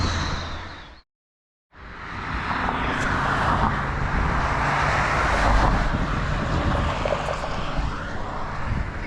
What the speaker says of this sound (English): that's another emergency vehicle heading north of us